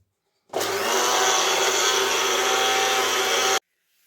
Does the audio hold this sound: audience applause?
no